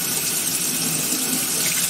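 Cold water runs steadily from a tap, a continuous bright hiss and splash held at an even, fairly loud level, close by with no voices.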